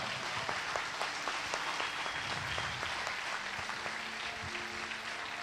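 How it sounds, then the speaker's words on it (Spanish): A church congregation applauds during a service, steady dense clapping from many hands that continues evenly for several seconds, with faint voices and music underneath. "Dele fuerte un aplauso al Señor."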